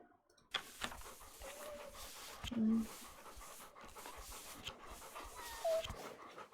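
Dogs panting in the video game The Pale Beyond, a steady breathy rhythm running through the whole stretch with a few brief whimpers and game tones over it, and no one talking.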